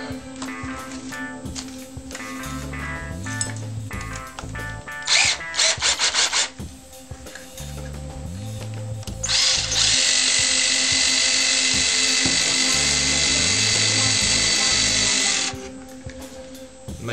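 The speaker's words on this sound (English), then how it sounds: "Make sure you're drilling onto a bit of scrap wood so you don't drill a hole through your table." Several bursts of high-pitched drilling from a power drill boring into wood over scrap, a short whine then a long steady run of about six seconds, over a constant low background hum.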